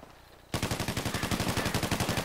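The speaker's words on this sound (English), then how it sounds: "They're shooting." Rapid automatic gunfire in the video game GTA 5, starting abruptly after a quiet lead-in and continuing as a loud, steady burst of evenly spaced shots.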